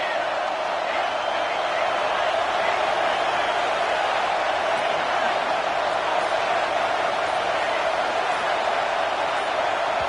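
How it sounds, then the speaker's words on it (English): Football stadium crowd roaring on a third-down defensive stand, a constant loud wash of massed voices holding steady without a break. "Decibels rising as the crowd gets behind this defense on third down."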